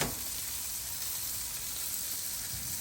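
Corned beef steaks fry on a Blackstone griddle with a constant loud hissing sizzle, steady and close throughout with no talking.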